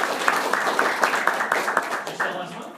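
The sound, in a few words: audience applause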